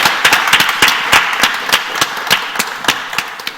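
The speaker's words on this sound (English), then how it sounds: "can we just give our speakers a quick round of applause" A short round of clapping for panel speakers at a Cambridge Union debate event, sparse and distinct hand claps close by with a thin bed of crowd applause behind.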